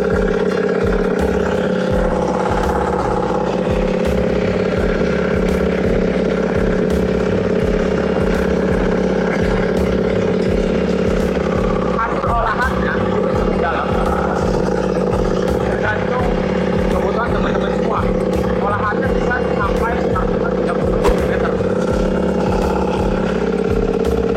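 FCT25 crawler tractor working a rice paddy while ploughing, its engine chugging loudly and steadily throughout, with someone talking over it.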